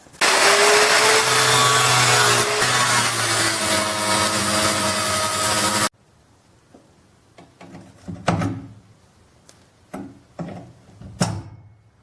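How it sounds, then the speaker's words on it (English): A rusty bolt on a wheelbarrow handle is cut off with a loud, harsh, continuous grinding for about six seconds. It stops abruptly, followed by quiet with a few scattered knocks and clunks. "I'm just going to cut the bolt off here and then split the nut"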